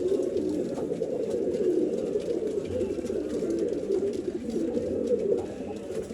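Pigeons for sale in Bangalore coo continuously in a low, throaty chorus, several birds overlapping in a steady murmur close by without speech.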